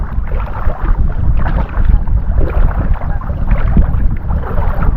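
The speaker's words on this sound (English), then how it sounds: "there's a little bit of wind right here" Wind gusts across a Nebraska lake (Shell Lake, Merriman Precinct) during a kayak outing, a steady loud rushing buffet that swells and dips, with low rumble throughout and no talking.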